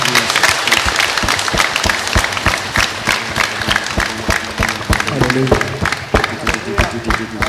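Sustained applause from a large congregation at a Bible convention fills the clip, dense rhythmic clapping that swells slightly, with voices underneath.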